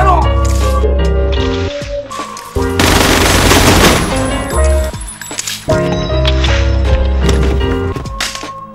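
Gunfire from a Battle Royale film scene, a loud burst of rapid shots and clattering impacts dense in the middle, surrounded by dramatic music and voices speaking.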